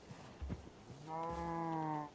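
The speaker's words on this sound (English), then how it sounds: "I brought 5 sheeps." A blocky Minecraft sheep gives one clear, sustained bleat among several animals in the modded FTB Infinity Expert world, preceded by soft thumps and footsteps.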